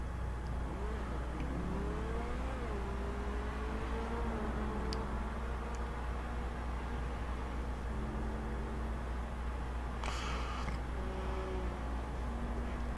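A car engine drones and revs through gear changes while driving in Grand Theft Auto V, a continuous mid-level hum over a steady noisy bed, with no talking.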